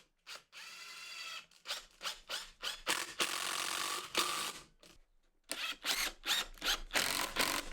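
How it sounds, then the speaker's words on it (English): Exterior screws driven into a wooden shed window frame with a power driver, heard as a series of short, loud, rattling mechanical bursts with brief pauses between them. "I'm going to get this locked together with some exterior screws."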